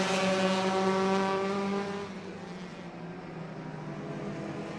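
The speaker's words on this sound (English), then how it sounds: "Here comes the 19 of Wolcott being chased down by the 18 of Osmond and the 9 of Argo." Race cars roar past during an enduro at Irwindale Speedway, a loud engine drone with a falling pitch as a car passes, then a steadier, fainter rumble.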